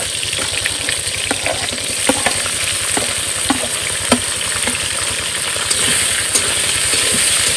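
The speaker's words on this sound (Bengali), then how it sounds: "তেল গরম হয়ে গেছে এবার প্রথমে দেব গোটা জিরা টমেটো পেঁয়াজ আদা রসুন কাঁচা লঙ্কা" Whole cumin, tomato, onion, ginger, garlic and green chilli fry in hot oil with a loud, steady sizzle, close up, while a utensil taps and scrapes the pan at irregular intervals, set outdoors beside a river.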